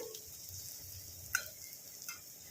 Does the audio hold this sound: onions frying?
yes